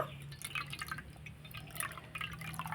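Water squeezed by hand from freshly made chhena trickles and drips in quick, irregular splashes close by, with no talking.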